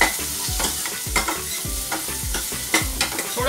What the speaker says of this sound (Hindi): और इन सब्जियों को अच्छे से थोड़ा सा इसको भूनेंगे